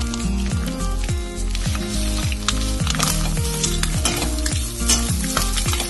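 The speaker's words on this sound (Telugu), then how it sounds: "రైస్ వేసి బాగా కలుపుకోవాలి." Rice being stirred into fried egg in a hot pan, with a steady loud sizzle and repeated rhythmic scraping strokes of the spoon throughout, no voices.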